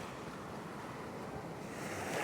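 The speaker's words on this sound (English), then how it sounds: "And then here's the beach." Waves on Nang Thong Beach in Khao Lak, Thailand, a steady broadband wash of surf with some wind, rising slightly near the end, with no voices.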